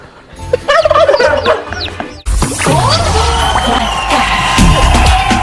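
A turkey gobbles as a Thanksgiving sound effect: several rapid, warbling gobbles, then after a sharp cut another burst of gobbling over crowd noise and cheering, loud and close.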